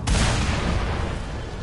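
A single heavy explosion from the Mad Max video game, a sudden loud boom with a long, rumbling, noisy decay that fades slowly over more than a second.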